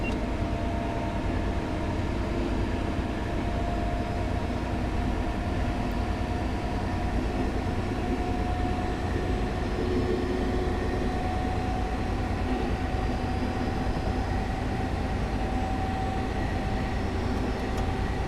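A Valenta HST train in Train Simulator 2017, running under notch 3 power toward about 55 mph, makes a continuous diesel drone with a faint tonal whine that stays steady and unbroken the whole time.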